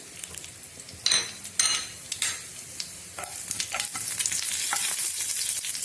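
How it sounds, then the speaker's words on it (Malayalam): Mustard seeds and cumin spluttering in about three tablespoons of hot oil in a pan: quiet crackle and sizzle broken by a few sharp pops and spoon taps, then rising into a steadier fry. "ഇതൊന്ന് കടുക് അതുപോലെ തന്നെ ഇതെല്ലാം ഒന്ന് പൊട്ടി വരണം"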